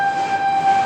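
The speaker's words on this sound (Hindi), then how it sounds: "ट्रेन जा रही है, जरा आवाज की ध्यान दे देना।" A train passing outside gives off a steady tonal drone and rumble with a bright sustained whistle-like tone, heard briefly and fairly loud.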